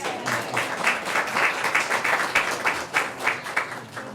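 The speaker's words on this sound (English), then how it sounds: "Now a round of applause." A round of applause breaks out at a board meeting: steady, moderately loud clapping from a roomful of people, sustained evenly for a few seconds with a cheer or two mixed in.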